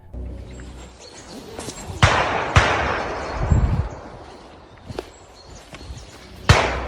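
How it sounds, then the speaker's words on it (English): Several sharp, distant gunshots ring out in the woods at irregular intervals, each trailing a brief echo over a low outdoor rumble. "This time capturing something even more chilling: gunshots. Faint at first, then clearer."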